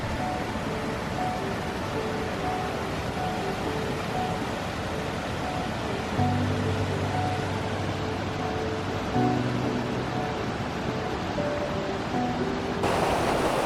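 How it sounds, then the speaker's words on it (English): A waterfall pouring down a valley slope makes a steady, full broadband rush that fills the whole scene at constant loudness, with a faint low hum entering partway through. "we'll set up with this waterfall that we've got coming down here"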